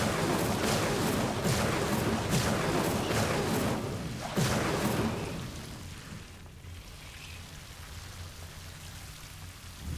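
Incendio fire spell cast in Hogwarts Legacy, a crackling, spitting burst of flame with rapid repeated pops that roars steadily for several seconds, then dies away to a low, quiet hiss.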